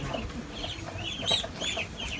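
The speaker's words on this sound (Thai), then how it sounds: "ไก่ตอด" Chickens clucking and pecking nearby in a rural Thai setting, soft irregular clucks with light scratching and background noise, no talk.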